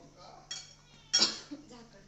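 Semolina upma being mixed in a metal pot, with a couple of sharp spoon scrapes and clinks against the pot over a quiet background, one louder stroke in the middle.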